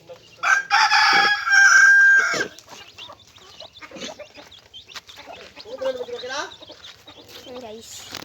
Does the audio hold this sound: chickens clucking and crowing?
yes